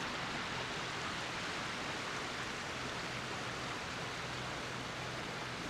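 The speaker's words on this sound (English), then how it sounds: "You can see some water, like a little stream, trickling down into the creek here" Small stream trickling down into a creek in the North Georgia mountains, a steady unbroken wash of running water, close and even throughout with no voices.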